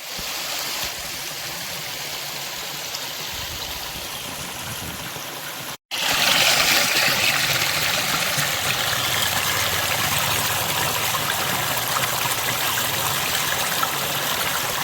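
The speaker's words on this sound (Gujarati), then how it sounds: "ખરેખર ખરેખર પાણી વહે છે" Water in a jungle stream near Bagdana flows steadily, a close, continuous rushing and burbling wash that cuts out for an instant and returns slightly louder, with no talking.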